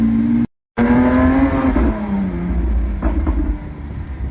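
Lamborghini Aventador SVJ revving loudly up close along a street in Monaco, a rising engine howl that briefly cuts out, then surges back and settles into a rough, throaty rumble.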